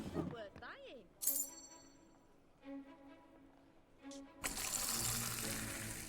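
Foamy beer poured into a pint in the video game Fable 2, a rushing, tap-like stream that bursts in loudly after a clink and some talk, holding steady to the end.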